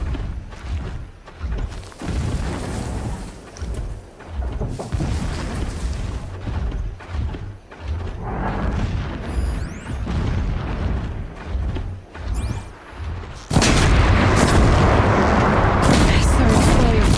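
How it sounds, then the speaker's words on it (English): Distant explosions in the PS4 game Horizon Zero Dawn come as repeated muffled booms and thuds between stretches of voices, ending in a louder sustained rumble. "explosions in the distance"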